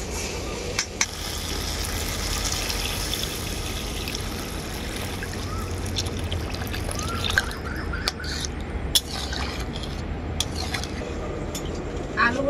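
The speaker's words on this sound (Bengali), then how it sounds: "এরপর আমি এর মধ্যে দিয়ে দেবো পরিমাণ মতো জল, ঝোল বানানোর জন্য" Water trickles and splashes as it is poured into a fried spice mix for a thin rohu fish curry with potatoes, a steady watery pour running throughout with a few clinks of utensils.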